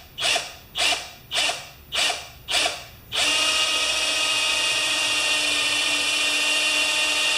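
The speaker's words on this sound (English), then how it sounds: "but I'm going to drill it out." A power drill drilling out a bolt on a 1973 Briggs tiller drive assembly whirs in five short bursts, each spinning up and cutting off, then runs in one long continuous high-pitched whine, close and loud.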